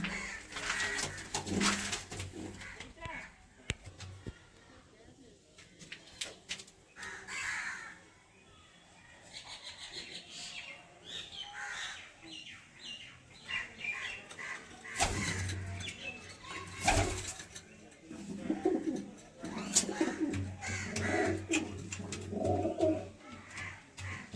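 Pigeons coo repeatedly in a home loft, throaty calls rising and falling throughout with occasional wing flaps, while people talk nearby.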